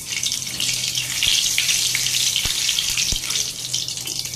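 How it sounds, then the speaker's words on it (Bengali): Cumin seeds fry in hot oil in a wok, giving a steady bright sizzle with a few sharp pops and crackles scattered through it. "কড়াইয়ে তেল গরম করে একটু জিরে ফোড়ন দিয়ে নিয়েছি"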